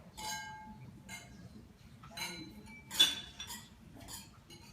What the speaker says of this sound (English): maybe just raise your glass and toast to everyone